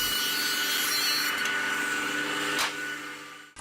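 A hand planer cuts a bevel along a 1x4 board for carpenter's sawhorses: a loud, steady, rasping roar runs close up through the stroke, then eases and stops abruptly at the end.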